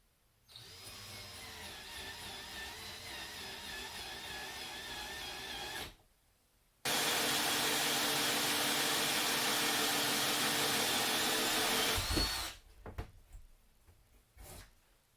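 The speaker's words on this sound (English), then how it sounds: "I got all 4 corners drilled out with the hole saw." A hole saw drills through the corners of a kitchen counter cutout at a cabin, two loud sustained whining bursts of about five seconds each separated by a brief pause, followed by a few quieter clunks.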